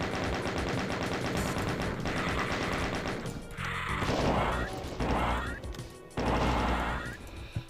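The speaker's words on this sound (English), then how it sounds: "So there's a chain gun." Chain gun firing in Doom 2, rapid bursts of gunfire with crashing impacts, loud and close, coming in several separate volleys over game music.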